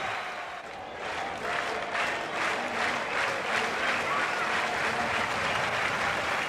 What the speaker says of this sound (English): Payne comes in, the crowd clapping.